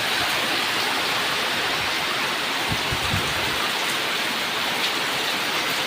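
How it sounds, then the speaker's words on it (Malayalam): Heavy rain pours down steadily in Pathanamthitta, Kerala, a dense, even hiss of water filling the air with no pauses and no voices. "രാവിലെ തൊട്ട് തുടങ്ങിയ മഴയാണ്"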